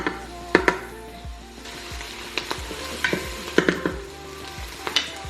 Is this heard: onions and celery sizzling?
yes